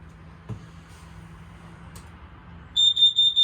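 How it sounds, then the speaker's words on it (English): A quiet travel trailer's hum gives way to a series of loud, rapid electronic carbon monoxide alarm beeps in quick pulses near the end. "That'll be the sound for carbon monoxide"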